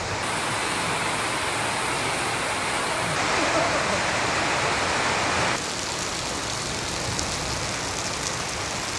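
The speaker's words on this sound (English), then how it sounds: "listen to that rain come down on this metal roof" Heavy rain drums steadily on a metal roof, a loud, dense hiss close overhead that holds for the whole stretch and eases slightly near the end.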